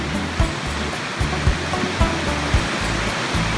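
Bridal Veil Falls in Hope, British Columbia, Canada roars as a steady, loud, broadband rush of falling water, continuous and close with no speech over it.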